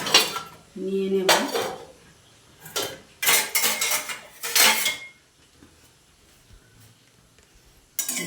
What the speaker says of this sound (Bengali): তো এবার আমি একটা খুন্তি এখান থেকে নিয়ে নেব।